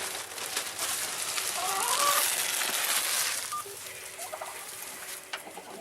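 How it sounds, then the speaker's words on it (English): Backyard homestead chickens cluck and murmur while pecking at lettuce and bread, a busy flock nearby with overlapping calls rising and then thinning out. "Mama just fed the chickens some of that lettuce and some of the bread."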